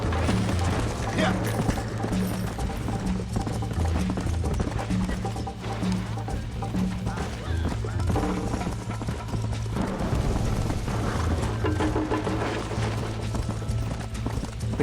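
Galloping horse hooves in the Red Dead Redemption video game, a steady loud clip-clop rhythm running for the whole stretch over continuous game music, with occasional whinnies and a voice talking at times.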